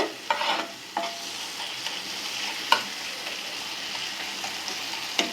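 A spoon scrapes and stirs through a fish curry in a pan with a soft, continuous sizzle beneath, the strokes coming every second or so.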